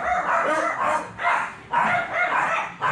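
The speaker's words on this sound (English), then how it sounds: "Everyone's barking at me." Dogs at a Dogs Trust rehoming centre bark in repeated bursts at a visitor, four or five loud echoing volleys in an indoor kennel.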